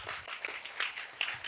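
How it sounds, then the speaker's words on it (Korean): Audience applause at a Korea University event, a short burst of clapping from a hall crowd with uneven individual claps standing out, fairly close and without talk. "자, 박수로 보내드리겠습니다."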